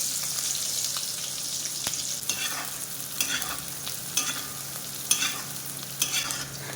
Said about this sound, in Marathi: त्यानंतर आपण मिरच्या भाजणार आहोत.